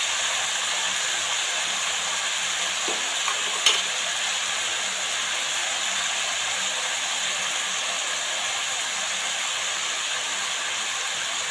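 Broccoli sabji, just salted, fries in a pan with a steady, dense hiss of sizzling throughout. There is one brief clink of a stirring utensil early on and no talking.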